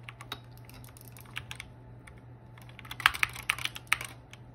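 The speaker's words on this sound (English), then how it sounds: "We'll switch it up and do keyboard." Close, quiet typing on a computer keyboard, recorded for ASMR: a steady stream of soft clicks that grows into denser, louder bursts of keystrokes toward the end, with no voices.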